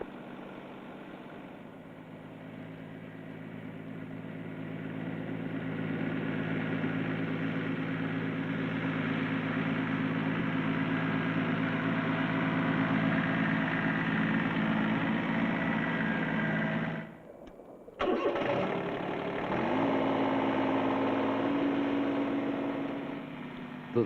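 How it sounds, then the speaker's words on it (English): A Ford 1210 three-cylinder compact tractor engine runs steadily, a mid-pitched hum rising from quiet to a sustained loud drone. A short cut breaks it near the end before it resumes. "The 3-cylinder lightweight 1210 compact tractor offers 16 horsepower"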